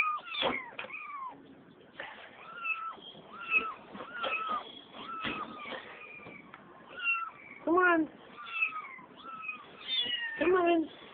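Kittens meow again and again, high and close, some calls drawn out into wailing cries and some short and sharp, with a person's voice mixed in at times.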